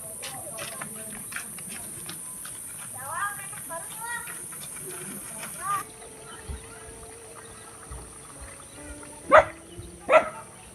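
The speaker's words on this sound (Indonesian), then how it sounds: "Ada anjing teman-teman yang sedang menggonggong teman-teman." A dog in a remote village lets out two sharp, loud barks close together near the end, following quieter stretches of faint outdoor background sound.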